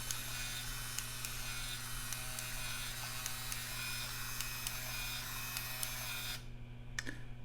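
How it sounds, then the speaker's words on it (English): A Game Boy Printer prints a picture with a steady whirring, buzzing mechanical hum that runs continuously, then stops abruptly near the end, leaving a brief quiet tail. "The Game Boy printer is printing out the picture that I just took a few minutes ago."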